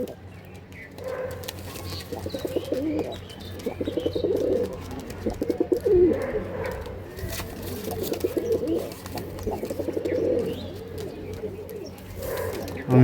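Pigeons, including a deep purple pair, coo in repeated low, throaty bursts close by, with a voice talking in the background.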